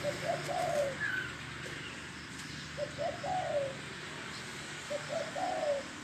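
A dove coos in three short, soft phrases spaced a couple of seconds apart, against quiet outdoor background noise.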